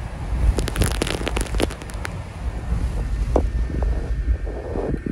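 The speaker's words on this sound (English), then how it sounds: "Still a little gusty here in the eye, but we have wobbled into the eye here in Port Mansfield." Gusty wind buffets the microphone in the eye of Hurricane Hanna at Port Mansfield, loud rumbling gusts rising and easing with brief sharp bursts.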